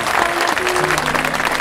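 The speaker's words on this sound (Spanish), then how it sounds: "para el cual ya pido un aplauso por estar aquí" Brief burst of crowd applause at a hometown tribute in El Cañavate honoring Paco Luzón, dense clapping throughout with a faint tonal hum beneath.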